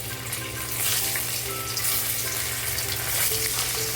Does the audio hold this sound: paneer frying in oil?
yes